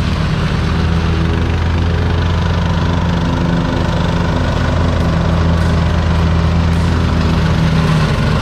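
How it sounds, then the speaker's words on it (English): A lawn mower engine runs steadily on a homestead, a loud continuous drone with a strong low hum that stays constant without pauses. "And Lee is still mowing."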